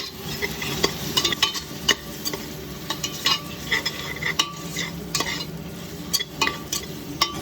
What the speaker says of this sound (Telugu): అలాగే మొత్తం మిక్స్ చేసుకోండి బాగా నీట్గా, బాగా ఫ్రై అవ్వాలి.